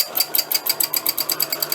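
A sewing machine runs at full speed for free machine stitching, its needle hammering out a rapid, steady, even rhythm close up and alone.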